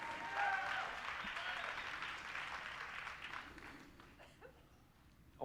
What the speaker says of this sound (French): Vous pouvez applaudir, c'est bon,